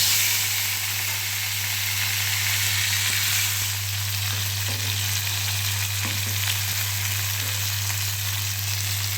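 Shrimp fry together in a hot pan on a home kitchen stove, giving a loud, continuous sizzle and hiss with occasional stirring scrapes over a steady low hum.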